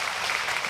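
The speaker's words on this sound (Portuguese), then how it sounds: "Palmas aí para as irmãs" A church congregation applauds for the pastors' wives in a brief, steady wash of clapping that sounds broad and moderately distant, with no voices over it.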